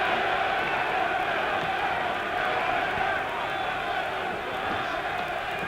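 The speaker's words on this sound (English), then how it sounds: "Tremendous German crowd here, ready to cheer this man on to victory if they can." A large German crowd at a heavyweight boxing match with Muhammad Ali and Karl Mildenberger, a dense continuous roar of cheering and shouting from a packed arena, steady and loud throughout.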